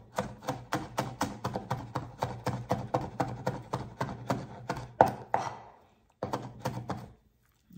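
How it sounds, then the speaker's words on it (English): Peeled garlic cloves being minced with a knife on a cutting board, a rapid even run of close, crisp chopping thunks that pauses briefly and then resumes for a few more strokes. "when the peels are off the garlic, then we want to mince"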